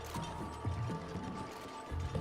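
A ladder being built in Oxygen Not Included: repeated short mechanical clicks and ratcheting knocks in an irregular rhythm over a steady game background hum.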